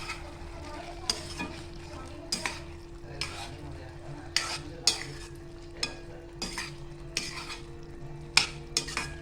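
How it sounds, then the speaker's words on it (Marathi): Spring onions are stirred into a pan of vegetable manchurian gravy; a spoon scrapes the pan in repeated, regular strokes over a steady low sizzle, close and clear with no talking. "आता यात आपण टाकतो कांद्याची पात वर ते आपण एकत्र असं ढवळून घेऊया"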